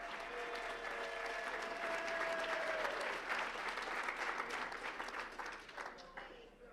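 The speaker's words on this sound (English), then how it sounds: "Please honor all of these female chairs with a great round of applause." Sustained applause fills the room at a chamber of commerce awards gala honoring female chairs. It is moderately loud and continuous, with faint crowd murmur and a voice briefly heard over the clapping before it begins to fade.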